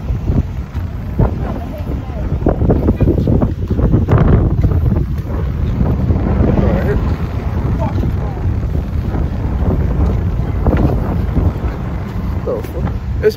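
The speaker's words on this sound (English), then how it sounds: "It's mad windy." Strong wind sweeps across the beach at Coney Island in Brooklyn, buffeting the microphone in a loud, continuous roar for the whole stretch, with indistinct voices faintly mixed underneath.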